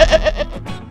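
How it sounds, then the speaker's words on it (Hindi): A cartoon goat gives a short, loud, wavering bleat at close range, with a few quick pulsing cries in under a second. "अरुण के घर के रामू नाम का एक बकरा रहता था"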